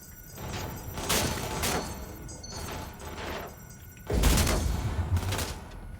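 Gunfire in Cyberpunk 2077 comes in loud, sharp bursts: several spaced volleys early on, then a heavier, denser barrage near the end over a constant background hum.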